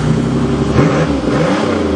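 A Buick car engine drives out through mud after an axle repair, its mid-pitched running and revving droning loud and steady from start to finish, with a brief surge partway through and no talk.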